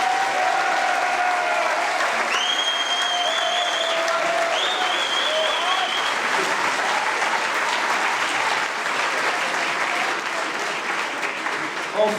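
Sustained, dense applause from a crowd at a Paris Brexit celebration, cheering Nigel Farage and holding steady for the whole stretch, with a few whistles early on.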